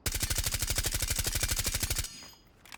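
Suppressed automatic fire from Thatcher's gun with suppressor and angled grip in Rainbow Six Siege, a rapid steady burst of about two seconds that cuts off abruptly, followed by faint game ambience.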